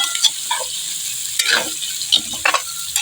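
A spoon scrapes and stirs chicken frying in a pan, a steady sizzle broken by a few clattering stirring strokes.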